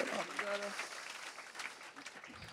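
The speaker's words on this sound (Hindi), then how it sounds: "ताली बजाते हुए प्रभु का धन्यवाद करें" A worship congregation claps for the Lord at a live service in Delhi, a moderate wash of applause mixed with voices and a short sustained musical tone near the start.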